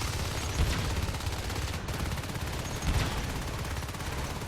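Competitive Natural Selection 2 match with shotguns firing amid steady, dense combat noise; a few sharper blasts punch through a continuous wash of gunfire and game sound.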